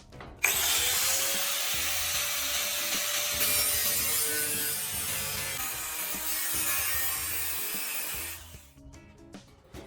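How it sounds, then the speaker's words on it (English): A cutting tool saws through a damaged section of metal roofing, making one loud, continuous, close rasping grind with a faint whine. It runs for about eight seconds and then stops, leaving a few light clatters. "Cut the damaged section into a neat square using a cutting tool."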